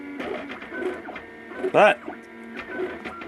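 A home-built 3D printer, about five years old, runs with a steady mechanical whir and a brief louder squeal of motor movement midway, heard under continuous talking.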